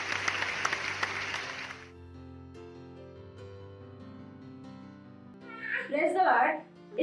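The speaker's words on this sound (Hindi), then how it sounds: "हम जोरदार ताली बजा के स्वागत करेंगे हमारे गवाह का" A church congregation applauds loudly for about two seconds. Soft sustained music follows, then a voice comes in near the end.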